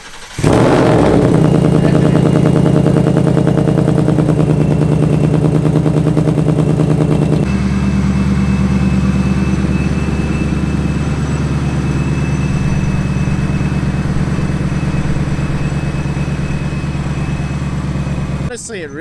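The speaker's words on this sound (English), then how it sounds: "We'll see with the cold start right now." A Mustang GT V8 fitted with a Camaro resonator fires up on a cold start with a sharp burst and revs high and rough, then drops abruptly into a deep, steady, rumbling idle that runs to the end.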